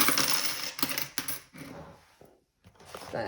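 Coins clink and jingle in several bursts, metallic rattles and drops close by, with short pauses and a brief silence between handfuls.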